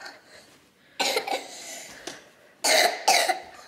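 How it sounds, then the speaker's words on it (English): A toddler coughing in short bursts indoors: a couple of harsh coughs after a quiet start, a small one, then two stronger coughs close to the listener, with no talking over them. "Cough. That's a cough."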